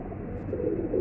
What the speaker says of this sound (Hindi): और आपके सामने देखिए कबूतर ये बैठे हुए हैं